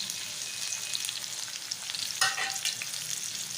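Tomatoes sizzle and spit in a hot pan, a constant crackling fry with a brief louder burst of spattering midway, as if from stirring, and no voices.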